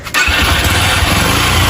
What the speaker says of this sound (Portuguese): Vai lá, liga pra gente a moto aí.